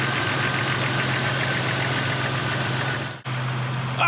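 A cold Jeep Wrangler Rubicon engine idles after a fresh Mobil 1 oil change, a steady, close, even hum with a low drone, briefly dipping near the end before resuming.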